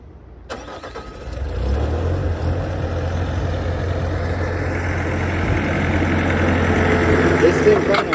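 A Bobcat T550 skid steer loader's diesel engine turns over and settles into a steady, rumbling idle close by, with a faint voice in the background.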